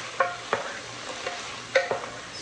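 Potatoes and onions are stirred in a soup pot, giving a few soft scraping, clattering strokes spaced apart, fairly close and quiet with a faint background hiss.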